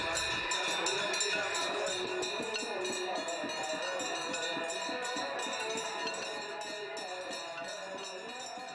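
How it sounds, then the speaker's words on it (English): Hundreds of bells ring continuously in a dense, shimmering wash during a riverside worship ceremony in Chhattisgarh, India, layered with a crowd and chanted mantras throughout, slowly easing in loudness. "as hundreds of bells ring"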